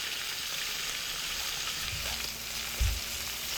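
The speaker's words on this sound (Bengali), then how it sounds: "এবার মাছ দুটোকে উল্টে দিচ্ছি, যাতে করে অপর পিঠটাও খুব ভালোভাবে ভাজা হয়।" Fresh pond fish frying in hot oil in a pan, a continuous hissing sizzle with a soft thump as the fish are flipped over, close and steady without voices.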